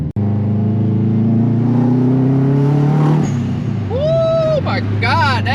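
Drift car engine revving loudly while driving, a close, continuous rising engine drone that eases off, followed by a brief squealing, chirping sound.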